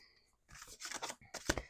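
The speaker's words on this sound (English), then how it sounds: "All right, we're going to shuffle." A deck of tarot cards is shuffled by hand in a few quick, crisp bursts of riffling and flicking, up close, with brief pauses between them.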